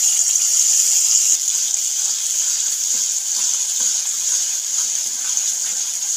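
A spice paste goes into hot mustard oil with bay leaf in a wok, making a loud, steady, hissing sizzle that holds evenly throughout with no talk.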